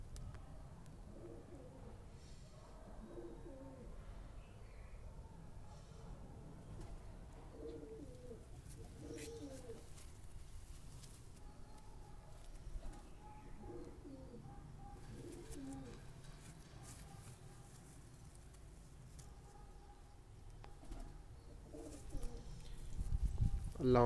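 A pigeon coos repeatedly in soft, rhythmic phrases, close but fairly quiet, over a low background hum, with a few faint chirps and no talking; near the end a louder rumble rises.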